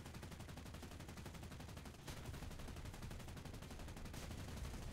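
Continuous rapid gunfire in the War Thunder tank game, a dense, steady stream of shots that stays loud and close for the whole stretch, with no voices over it.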